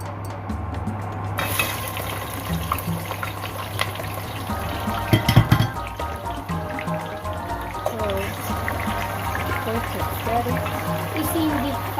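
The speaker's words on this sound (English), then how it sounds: "you can see my oil are just hot, so I'm going to put my sliced onions." Sliced onions dropped into hot oil for jollof rice, giving a steady close sizzle with bubbling crackle after a brief quiet start, while a low background hum runs underneath.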